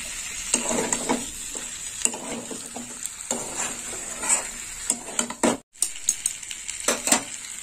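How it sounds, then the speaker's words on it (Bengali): Fried teasel gourd is stir-fried in spices in a pan, with a steady sizzle under repeated scrapes and clinks of a spatula against the pan, close and clear, with no talking. "এবার একটু ভালো করে কাঁকরোল দিয়ে নেড়ে চেড়ে নেব।"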